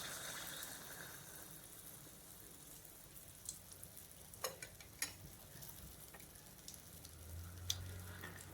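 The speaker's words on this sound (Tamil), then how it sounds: "ஒரு கரண்டி மாவை அப்படியே எண்ணெயில் விட்டுருங்க." Neyyappam batter made without rice or wheat hits hot oil in a pan, giving a soft, steady sizzle with a few faint ticks and a deeper crackling swell near the end, quiet throughout.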